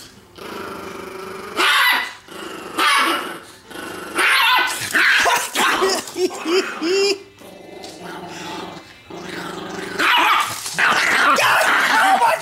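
A dog guarding a T-bone growls and barks in repeated snarling bursts with yips and whimpers between them, loud and close, with some human voices now and then.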